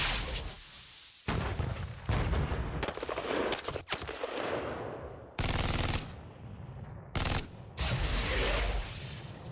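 Rapid machine-gun fire in Panzer Battles North Africa 1941, loud dense bursts separated by brief gaps across the whole stretch, with rattling mechanical texture and no talk.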